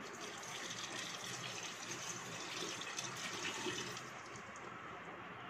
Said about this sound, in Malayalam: ഇനി ഇതിന് മുകളിലായിട്ട് നമ്മൾ വെള്ളം ഒഴിച്ചു കൊടുക്കും.